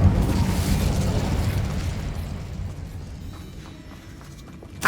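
A fire spell cast in Hogwarts Legacy: a loud, roaring, crackling burst that dominates the start and slowly fades over several seconds, with a fresh flare at the very end.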